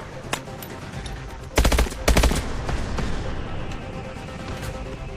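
Gunfire in Call of Duty Advanced Warfare: two loud, dense bursts of suppressing fire around the middle, set against a steady rumble of battle with scattered sharper shots before and after.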